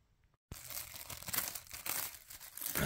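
Packaging for a Traxxas TRX-4M Bronco RC car is torn and crinkled open up close, a fast burst of ripping and crumpling that follows a brief moment of quiet.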